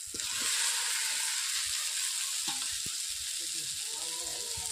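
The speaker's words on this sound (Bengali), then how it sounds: "এরপর আমি দিয়ে দিচ্ছি এখন ভেজে রাখা পটল আলু আর মাছগুলোকে" Fried potol, potato and rui fish go into spices frying in a pan, and a broad hiss of sizzling oil is punctuated by clatters and scraping knocks of pieces landing and being moved, close and without speech.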